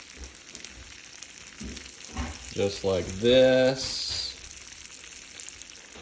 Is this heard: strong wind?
no